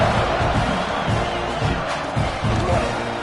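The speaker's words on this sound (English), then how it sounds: "this crowd is buzzing after that last score" A large college football stadium crowd buzzes steadily after a touchdown and extra point. The noise is a loud, dense, continuous roar with no clear gaps, and a commentator talks over it.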